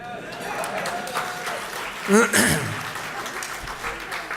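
Audience applause at a campus address by the Pennsylvania governor: a steady, hissing wash of clapping with a voice speaking over it and a louder swell near the middle.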